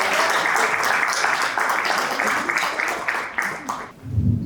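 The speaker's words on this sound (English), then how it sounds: "Please put your hands together." At a stock exchange listing ceremony for a food company, the audience claps loudly and continuously for a few seconds. The applause then fades out and a low rumble follows.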